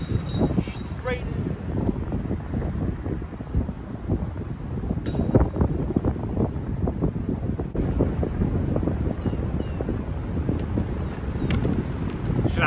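Strong gusting wind buffets the microphone on a disc golf course during 25 mph conditions, a steady broadband roar with rumbling low gusts running continuously for the whole stretch.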